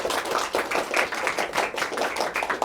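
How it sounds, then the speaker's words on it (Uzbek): Audience applause at a youth robotics competition awards ceremony: a dense, steady burst of many hands clapping together, close and fairly loud, with no talk over it. "Qani bitta qarsak chopib qo'yamiz hammamiz birgalikda."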